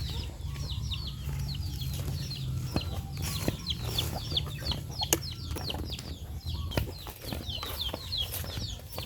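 Chickens cluck and crow in a busy farmyard flock, a steady chorus of overlapping calls with occasional wing flaps and a low rumbling background throughout.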